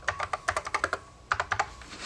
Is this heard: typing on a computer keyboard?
yes